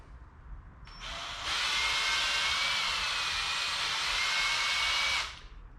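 A power drill spins a buffing pad to polish the finish on a carved-top electric guitar, starting with a brief high whine and then holding a loud, steady buzzing drone for about four seconds before stopping.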